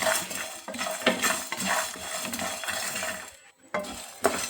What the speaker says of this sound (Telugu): ఒక ఏడెనిమిది కాజు ఇవన్నీ వేసుకొని వేయించుకోవాలి